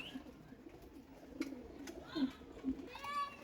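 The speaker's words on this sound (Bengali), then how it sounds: "এইখানে দশ পনেরোটার উপরে কবুতর পরে রয়েছে ডেলিভারি করার কবুতর" Caged pigeons coo softly in a few low, separate phrases, rather faint against a steady background hum.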